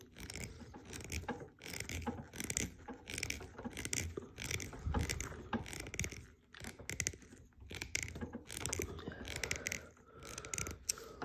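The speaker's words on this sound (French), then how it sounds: "Hop, on va visser ça là-dedans." Parts of a Toyota Supra scale model, the steering column and shaft, are screwed together by hand, producing quiet, close, irregular clicking, ratcheting and scraping with brief pauses.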